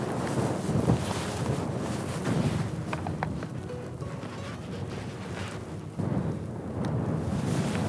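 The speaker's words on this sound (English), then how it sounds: "You are on the edge of a very steep cliff, and the wind is going this way" Strong wind gusting across a steep mountain cliff edge in the Italian Dolomites, a loud, continuous roar buffeting the microphone with surging gusts and no voices.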